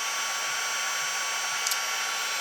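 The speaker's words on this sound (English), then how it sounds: "I'm letting my heat tool get warmed up" An embossing heat gun warms up with a steady, even, hair-dryer-like blowing hiss, constant and close throughout, with no voices.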